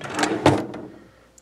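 A short wooden drawer in a hotel guest room slides and bumps shut, a couple of quick scraping thuds close by, followed by a faint click at the end.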